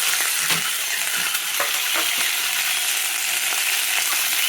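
Food frying and being stirred in hot oil, with turmeric and coriander powder added to the pan: a steady, loud hiss with soft scraping stir strokes at irregular moments, no voices.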